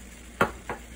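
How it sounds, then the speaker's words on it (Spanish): Chicken pasta with cilantro gets stirred in a hot pan, two quick scraping sweeps with soft frying sizzle beneath, close and alone. "Así que revolvemos todo muy bien y vamos a dejar cocinar"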